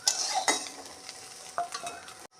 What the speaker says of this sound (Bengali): সোয়াবিনটা ভাজা হয়ে গেছে, গাটা বাদামি বাদামি কালার চলে এসেছে।